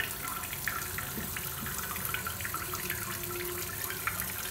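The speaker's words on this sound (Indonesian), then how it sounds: "Itu airnya udah mulai ngisi." Water rushes steadily into a toilet tank refilling through a newly repaired Fluidmaster fill valve, a constant close hiss and splash with no voices.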